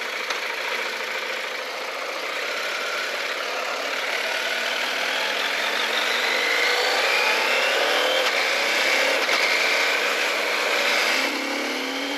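A CF-Moto Ibex 800 motorcycle engine hums steadily while riding, a continuous mid-pitched drone with wind rush that swells slightly as the throttle is worked, sounding close and constant for the whole stretch.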